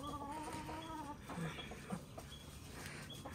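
Backyard chickens cluck and murmur softly as they are fed greens in a garden, a scattered run of quiet calls at moderate distance with no talk.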